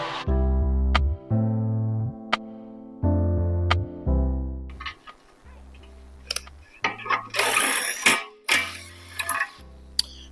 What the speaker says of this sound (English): You can actually hear when the threads get cleaned up.